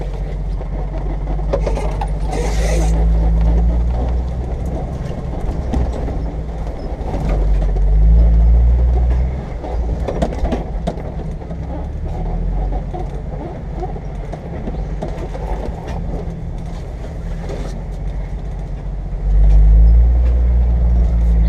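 A truck engine labors up the steep Clarks Grade in a steady, heavy low drone that swells and eases in waves, heard from inside the cab with no talking.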